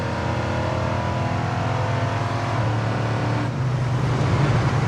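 A 1969 Pontiac GTO engine roars steadily under hard acceleration, tires breaking loose, loud and close, with a rough, sustained throttle note that shifts in pitch partway through.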